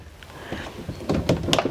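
A kitchen cabinet door beside the stove in a 2019 Newmar Bay Star 3226 Class A motorhome is handled, giving a few soft knocks and a short sliding clatter near the end, fairly close.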